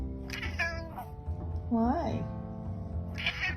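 A very fat 42-pound cat gives one clear, rising-and-falling meow, close and fairly loud, between short bursts of a person talking.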